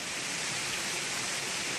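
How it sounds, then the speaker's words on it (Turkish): A mountain stream fed by snowmelt on a snowy mountain, its water gurgling and rushing in a steady, close, full-bodied flow with no voices over it. "Şırıl şırıl akıyor."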